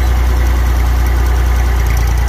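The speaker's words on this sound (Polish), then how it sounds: "Jesteśmy przy traktorze. Oglądamy Fergusona." A Massey Ferguson tractor engine idles steadily nearby, a deep, even low-pitched chugging that stays constant throughout with no voices.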